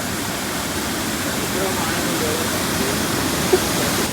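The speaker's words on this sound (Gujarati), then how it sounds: "હવે આ વોટરફોલ તો જોઈ લીધો આપણે" Devghat waterfall in high water, a dense, steady roar of rushing, falling water filling the whole scene, loud and close with no break.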